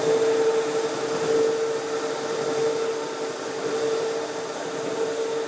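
A Baby Mammoth floor grinder switched on and running, giving a loud, steady whirring roar with a constant tonal hum that holds throughout without pause.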